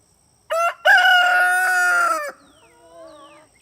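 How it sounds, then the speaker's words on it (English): A small rooster on a farm crows once, close and loud, a short opening note followed by a long drawn-out call, then a few faint chirps. "That little rooster is named Flam, short for flamingo"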